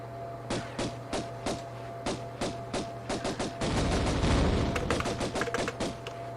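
Gunfire in the 1996 video game Tomb Raider, a rapid series of sharp evenly spaced shots that build into a dense burst of fire, then taper back into scattered single shots, with no talking.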